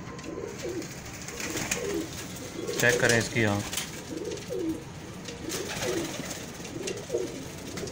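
A Teddy breeder pigeon coos in repeated soft rolling phrases close by, while someone talks over the calls.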